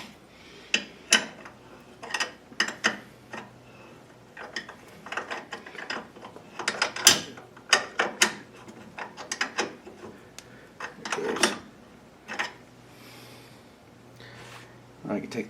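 Ratchet wrench tightening a bolt with a washer on a 1956 Chevy gasser clutch linkage, heard as repeated bursts of quick clicking at close range, with a person talking between strokes.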